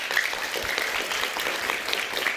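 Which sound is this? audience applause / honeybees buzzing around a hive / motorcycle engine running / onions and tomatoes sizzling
audience applause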